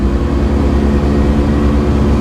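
American 5.7-litre V8 car engine heard from inside the cabin as it downshifts, a loud, deep, steady droning rumble with strong low harmonics holding evenly throughout.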